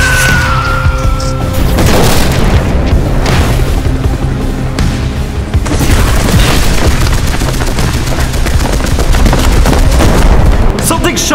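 A short sci-fi film scene in which an alien object is shot down, with a loud, sustained roaring explosion and rumbling blast debris filling the whole stretch, and a brief dip before it surges again.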